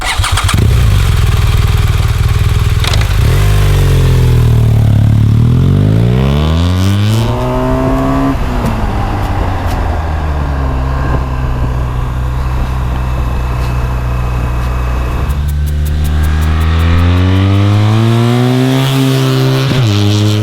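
Maxi-enduro motorcycle on Pirelli Scorpion Rally Street knobby tyres lapping a track, its engine loud and close, rising and falling through repeated gear changes and revving accelerations with no talk.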